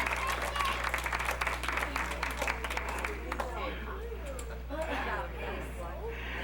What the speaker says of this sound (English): Now give Casey a round of applause